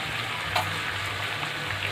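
Chicken for biryani fries in a pan and is stirred with a spatula, giving a steady close sizzle with a few soft scraping strokes.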